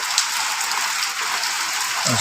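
Rain falls steadily in the early hours before dawn in Fatikchhari, a dense, even hiss of drops on surfaces with no break, and a faint low sound near the end.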